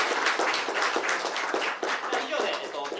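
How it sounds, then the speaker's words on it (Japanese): An audience at a TensorFlow user group meetup applauds the presenters with dense, steady clapping that carries on for a few seconds, with voices mixed in. "最後に発表した皆さんに拍手で終わりたいと思います"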